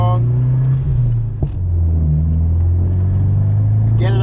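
A Fiat 124 Spider turbo pulls away from a standstill, its engine a steady, loud low drone that holds through the whole stretch with little sign of revving up, heard from inside the car.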